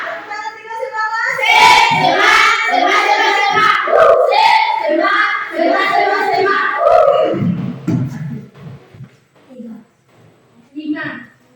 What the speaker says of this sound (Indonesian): Tepuk tangan 3 semangat.